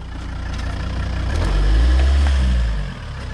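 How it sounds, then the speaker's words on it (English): A Volvo car rolls slowly onto a ThinkPad laptop, its engine rumbling low and steady close by and swelling briefly before easing off. "we're going to see how strong it is compared to the laptop, the Volvo. Just drive it on top slowly."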